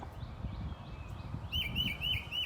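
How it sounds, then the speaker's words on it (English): A bird chirps in a repeating series of short, bright calls, clearer and louder toward the end, over a steady low rumble of background noise. "Just wanted to bring y'all this bird."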